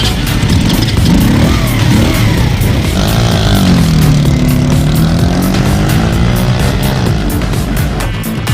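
A 50cc moped, the Mac Power Air, rides along with a steady, loud engine drone that rises and falls in pitch as it accelerates and eases off, close and continuous under rushing wind throughout.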